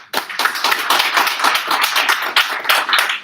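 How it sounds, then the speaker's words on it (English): A room full of people at business analytics capstone presentations bursts into dense, loud applause, steady and unbroken for a few seconds. "last round of applause."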